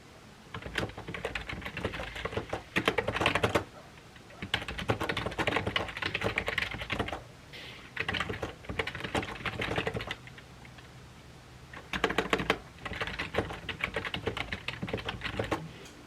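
Steady typing on a computer keyboard while writing a novel, close and clear, coming in bursts of rapid key clicks separated by short pauses, with no talking.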